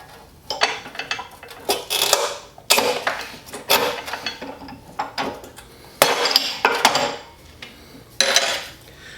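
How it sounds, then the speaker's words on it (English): Rubi Magnet 710 manual tile cutter scoring and snapping ceramic tiles, heard as a series of sharp clacks, scrapes and hard snaps in irregular bursts, close and fairly loud with no talking. "Very easy to cut and snap tiles."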